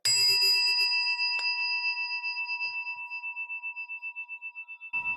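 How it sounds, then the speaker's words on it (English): A meditation chime or bell struck once, ringing out with clear sustained tones that slowly decay over several seconds, alone in a quiet space. "Allow the sound of the chime to call you to this moment"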